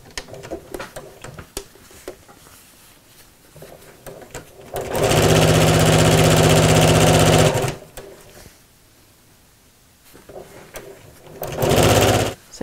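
A domestic sewing machine stitches a tote bag seam in two bursts, a steady close rapid whirring run of a few seconds and a shorter later one, separated by quieter handling of fabric.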